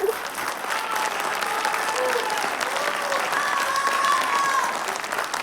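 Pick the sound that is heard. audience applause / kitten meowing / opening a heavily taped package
audience applause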